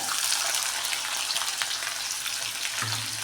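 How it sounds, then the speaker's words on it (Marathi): Chopped onion frying in hot oil with mustard seeds and cumin for a brinjal curry gravy, a steady close sizzle that stays loud and continuous, with no voices over it. "तुम्ही एक कांदा टाकला बघा कांदा भाजतोय"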